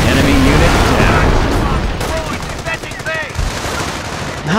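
Infantry machine gun fire in Company of Heroes, with dense, loud continuous bursts of gunfire and distant booms forming a constant battle din, overlaid by brief radio-style voice callouts.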